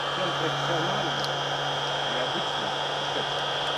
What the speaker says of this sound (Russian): Очень осторожно работайте с феном, потому что горячо